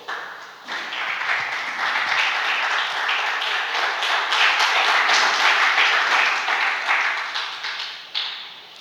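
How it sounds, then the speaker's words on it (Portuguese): A church congregation applauds steadily for about nine seconds, a dense, even wash of many hands clapping together that ends abruptly. "Pode sentar e aplauda o nome do Senhor."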